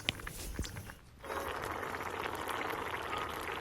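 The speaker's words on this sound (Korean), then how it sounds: "고등어를 넣고 만능 양념장 3큰술 넣고 고추, 대파 넣고 자작할 때까지 끓여주면 됩니다." Braised mackerel with radish, chili, green onion and seasoning sauce simmering in a pot, a short clatter up front, then a steady close bubbling and hissing boil.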